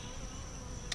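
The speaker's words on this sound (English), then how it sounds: "Shake some more bees in there with them." A close, continuous honeybee buzz from a hive box with a steady high whine, holding evenly for a moment before a brief brighter burst at the end.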